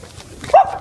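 A dog gives a single short, loud bark close by, a brief yelp-like burst over faint background noise.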